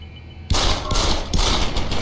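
Loud, close automatic gunfire from the Deus Ex: Human Revolution video game bursts in after a short quiet lead-in, continuing as rapid rattling shots with slight pulses for the rest of the moment.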